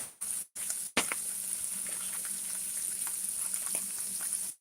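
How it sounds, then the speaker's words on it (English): Onions and mushrooms stir frying in a pan, a steady bright sizzle with occasional crackles and the scrape of stirring, close and continuous after a few brief cuts at the start. "I'm just going to keep stir frying those onions and mushrooms until they get brown, caramelized"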